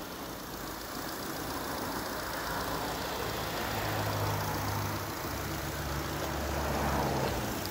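A 2004 Ford Fiesta MK6 engine idles steadily while a hydrogen carbon-cleaning machine runs on it, producing a continuous low rumble with broadband hiss that holds at an even, moderately loud level throughout, with no talking.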